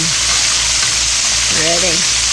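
Pickle-brined chicken pieces sizzle steadily in a hot pan, a loud, dense frying hiss, with a brief murmur of voice near the end.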